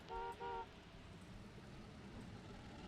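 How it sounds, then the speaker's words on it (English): Car horns honk twice in quick succession in the railroad simulation game Trainz 2022, two short beeps at the start followed by a low steady background hum. "I hear people beeping their horn."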